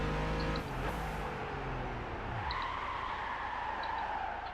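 Car in Gran Turismo 5 rotating under the handbrake, tires skidding with a sliding screech over engine drone that drops as the car slows, heard alone at moderate level.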